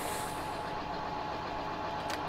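A John Deere 8530 tractor engine idles steadily, a dense continuous rumble with no speech and no breaks.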